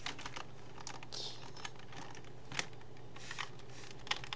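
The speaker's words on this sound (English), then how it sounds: "Excessive keyboard typing." Rapid, uneven clicking of a computer keyboard being typed on, quiet and close, with a few sharper key strikes and no voices.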